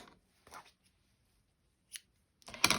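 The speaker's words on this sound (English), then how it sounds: "And then I can just cut my yarn" Scissors snip through yarn during crochet work, giving a few quiet, sparse clicks and one sharper close cut near the end, with silence between them.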